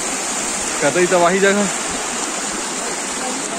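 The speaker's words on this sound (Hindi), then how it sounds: "यहाँ पर झरना ही झरना, ये तो नदी है फिलहाल, झरना वहाँ पर जाकर बनता है" A forest river rushes steadily just upstream of a waterfall, a broad continuous roar of flowing water close by, and someone speaks briefly over it.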